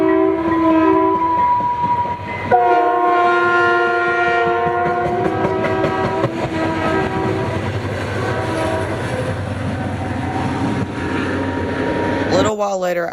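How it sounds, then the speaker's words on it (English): Freight locomotives, including Western Pacific 3002 and unit 119, trade loud sustained horn blasts in a horn battle at Ogden, chords starting and stopping over rumbling rail noise, with a voice briefly heard. "the southbound departed, now with 119 leading, again, and surprisingly had a horn battle with 3002"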